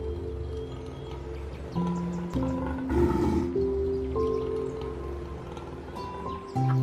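A lion roars in a deep rumbling series of bursts with a brief breathy rasp midway, fairly close and steady in loudness, with no talk.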